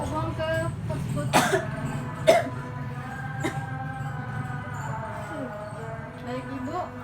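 A woman coughs during an effective-cough exercise, giving two or three short, sharp coughs amid quiet talk in a calm room.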